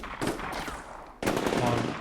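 Sustained automatic fire from a PKM machine gun in the war game Combat Mission Shock Force 2, a dense crackling rattle that steps up louder and closer partway through.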